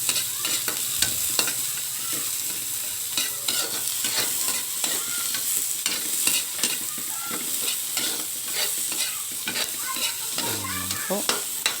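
Onion and ginger sautéing in a pan for chicken adobo, a close constant sizzle with repeated clicks and scrapes of stirring utensils against the pan, no voices heard.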